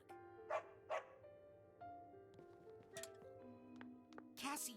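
A dog barks in the video game Psychonauts 2: a few short, faint barks spaced apart over soft tonal game music, with a voice speaking now and then.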